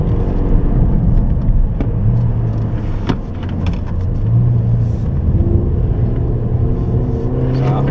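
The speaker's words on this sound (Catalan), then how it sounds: "Aquí ja es nota com el control de tracció no ens deixava accelerar al sortir de la curva lenta." Ford Fiesta ST200 accelerating on a race circuit, a loud steady engine drone from inside the car with shifting pitch as it pulls out of a slow corner.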